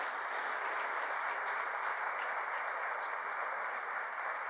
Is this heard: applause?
yes